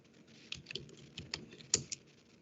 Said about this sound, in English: So I'll verify by typing ipconfig.